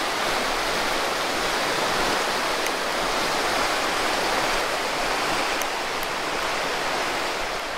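A mountain stream flows beside a hiking trail in the Écrins, a loud, steady rushing wash of water heard close up throughout, with no talk.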